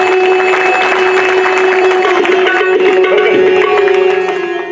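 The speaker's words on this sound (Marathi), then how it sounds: "टाळी वाजवा बाबांचं" An audience claps steadily throughout a Bhagwat katha gathering, a dense continuous patter layered over a sustained musical tone, with no pause.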